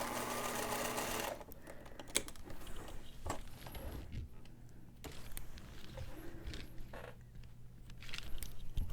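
Sewing machine stitching a quilt top panel, short bursts of close mechanical whirring broken by pauses, clicks and handling noises as pins are pulled.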